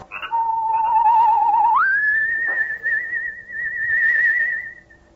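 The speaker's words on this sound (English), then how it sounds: "a soft, whistled signal rides the still night air" A single soft whistle holds a low note, then slides up to a higher steady tone and sustains it before fading, alone in quiet surroundings.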